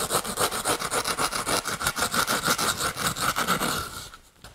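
A carving tool rasps back and forth across a largemouth bass body form, thinning it in quick, regular scraping strokes, close and steady, then stopping abruptly.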